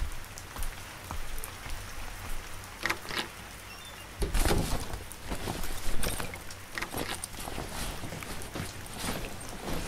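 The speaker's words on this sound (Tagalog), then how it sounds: "Maambon no. Mamaya abutin ka pa ng ulan." Light rain patters steadily on surfaces outdoors, a soft continuous drizzle with scattered heavier drops and brief bursts of louder spatter, with no speech.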